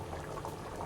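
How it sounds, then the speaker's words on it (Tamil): A pot of thick cauliflower kurma curry bubbles and simmers steadily, soft close-up popping and gurgling with no voices. "நல்லா குருமா கொதிக்குது."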